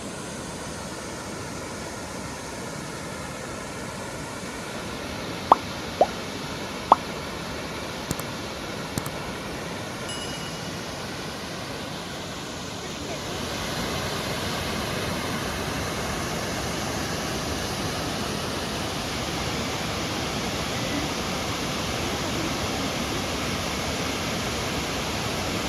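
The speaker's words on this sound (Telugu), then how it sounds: "ఫైనల్గా వాటర్ ఫాల్ ఇది." Ethipothala waterfall at Nagarjuna Sagar, heard as a steady, even roar of falling water from some distance, with a few faint clicks early on and no talking.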